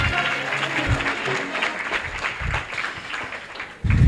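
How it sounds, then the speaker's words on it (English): An audience at a business meet-and-greet event claps in a steady, moderately loud round of applause, with speech mixed in over the clapping. "give him a round of applause for the last time."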